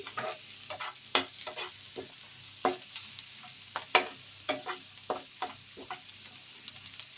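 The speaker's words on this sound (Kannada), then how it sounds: "ಈರುಳ್ಳಿ ಕಂದು ಬಣ್ಣ ತಿರುಗೋ ತನಕ ಹುರ್ಕೋಬೇಕು" Onions fry in a pan for mutton pepper fry and are stirred until brown, a soft background sizzle punctuated by a string of brisk spatula scrapes and taps in an uneven rhythm.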